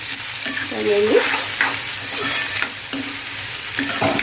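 Onion and peas sizzle in hot oil while a spoon stirs and scrapes the pan, a continuous close frying hiss with occasional scraping strokes and no talk.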